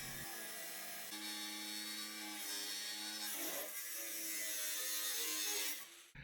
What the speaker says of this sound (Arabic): هات الصاروخ وابدأ القص